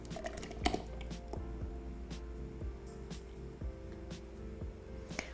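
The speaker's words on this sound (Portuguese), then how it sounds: "Aqui eu vou despejar sobre o chocolate para que ele derreta." Warm gelatin mixture is poured over chocolate to melt it, giving a soft, quiet trickle and faint squishing with light clinks of kitchenware under a low steady background hum.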